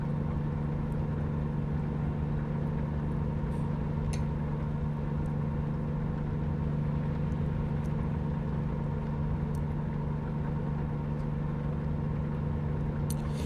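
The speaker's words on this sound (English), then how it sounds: "No, that's the roar of a truck engine," A truck engine runs steadily in the driving game American Truck Simulator, a constant low droning hum with a heavy rumbling undertone and faint ticks, unchanging and continuous throughout.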